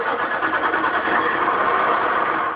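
Farm tractor engine idling at a steady, even drone that holds for the full stretch without a change in pace, fairly loud and close, with no voices over it.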